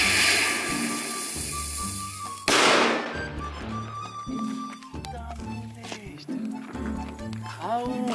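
A Faraônica firecracker explodes outside a safe with one sudden loud bang, followed by a string of rapid sharp cracks and pops, while music plays throughout.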